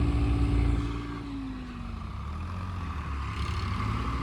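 An Eicher 557 tractor engine labouring under heavy load in a tractor pulling contest, a loud, steady low drone whose pitch sags and then holds, close by with no talk.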